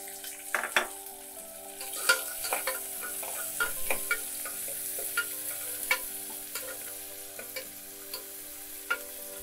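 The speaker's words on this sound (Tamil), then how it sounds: "இதெல்லாம் போட்டு நல்லா தாளிச்சோன்னே வெட்டி வச்சிருக்கிற ஒரு வெங்காயத்தை போடணும்." Thinly sliced onion frying in a pan after a tempering of spices, a steady soft sizzle broken by repeated clicks and scrapes of a spoon stirring.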